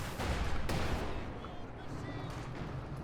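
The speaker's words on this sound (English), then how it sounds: "Stug opening fire on the T-30-45, but again, AT grenades" StuG assault gun firing at a T-30-45 in the Company of Heroes 2 strategy game, a booming shot near the start rolling into a dense rumble of battle noise that holds steady for about three seconds.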